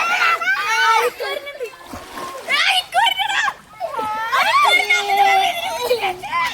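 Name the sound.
children splashing in canal water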